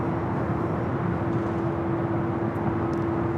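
ANA Boeing 787-9 Dreamliner in Star Alliance livery at LAX, a steady broadband jet rumble with a constant tonal hum running through it, moderately loud and heard alone.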